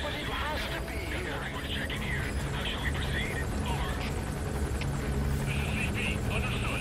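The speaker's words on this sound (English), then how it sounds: "with this helicopter going overhead" A helicopter passes overhead in the video game Metal Gear Solid V, a steady rotor drone holding throughout beneath in-game voices and chatter.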